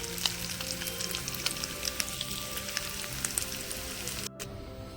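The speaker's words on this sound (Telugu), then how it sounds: "ఇవి ఒక్కటే డీప్గా ఫ్రై చేసుకొని మళ్ళీ పోపు పెట్టుకుందాం." Potato pieces deep frying in hot oil give a soft, steady crackling sizzle with small popping bursts, close but fairly quiet, then cut off abruptly near the end; no one speaks.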